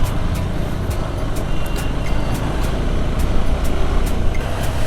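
Steady roadway rumble of cars, buses and trucks passing on a highway near Trichy on the way to Kolli Hills, heard from a riding motorcycle, with a continuous low drone and no pauses.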